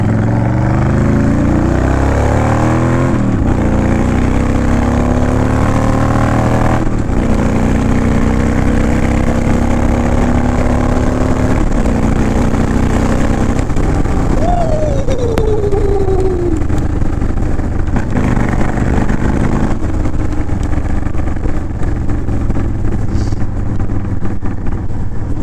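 A Honda Fury motorcycle fitted with Cobra Speedster pipes rumbles loudly and close, revving and easing off so the exhaust crackles and pops on deceleration, with rising and falling engine pitch throughout and no talk.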